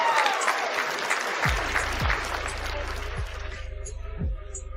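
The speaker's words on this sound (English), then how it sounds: "Give her a round of applause, please," Applause during an online talk, a burst of clapping from an audience that fades out over a few seconds, with low thumping tones underneath as it dies away.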